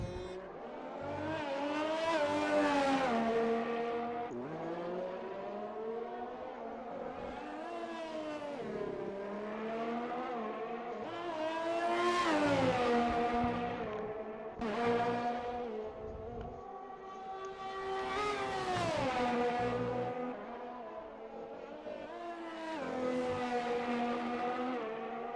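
A race car in a racing video game laps the Hungary circuit, its engine screaming up through the revs and dropping back on each gear change and corner in repeated loud waves.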